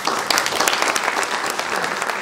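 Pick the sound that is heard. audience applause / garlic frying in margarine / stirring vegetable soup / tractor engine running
audience applause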